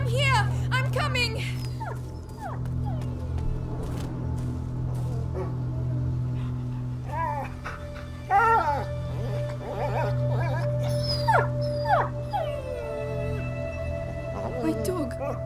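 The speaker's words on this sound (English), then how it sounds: "My dog!" A dog barking, yipping and whimpering in the video game A Plague Tale: Innocence, repeated distressed cries over a steady low drone, with voices speaking in between.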